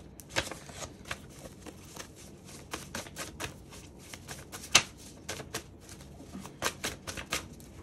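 Tarot cards are shuffled by hand in a quiet room, a soft steady riffle broken by scattered sharper snaps and slaps of cards, one louder slap near the middle.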